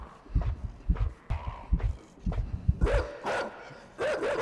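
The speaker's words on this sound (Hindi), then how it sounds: "ओहो कुत्ता है आगे।" Dog barking in the video game Inside, a run of short, rhythmic barks and yips close by, growing more insistent toward the end, with no talk over it.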